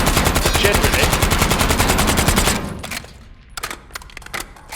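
Automatic weapon fire in Black Ops 6: a loud, rapid unbroken burst for about two and a half seconds, then several shorter separate shots over a quieter background.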